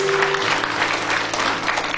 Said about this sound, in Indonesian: Yang setuju Tuhan baik, tepuk tangan dulu buat Tuhan Yesus.